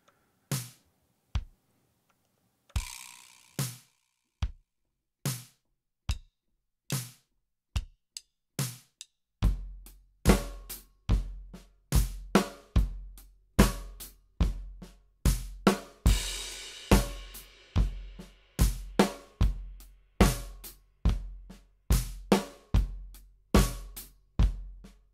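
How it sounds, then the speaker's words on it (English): A practice drum loop at 72 BPM, sparse evenly spaced hits at first, then a fuller steady groove with regular kick and snare strikes, crisp and clean with no voices. "So let's get our trusty drum loop here."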